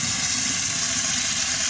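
Water pours steadily into a container of about three gallons for a homemade Jadam fertilizer mix, a continuous close gushing hiss with no speech.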